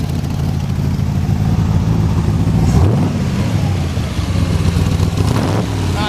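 A 1966 Chevrolet Corvette engine runs through side pipes with a steady, throaty rumble. Around midway it gives a brief rev before settling back to a loud, close idle.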